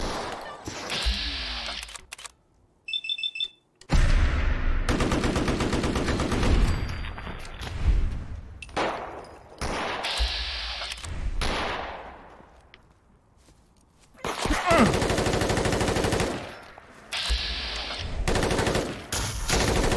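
Gunfire in the video game Fallout 4, with loud bursts of automatic and single shots that come in clusters separated by brief lulls, some echoing, mixed with other game sounds and voices.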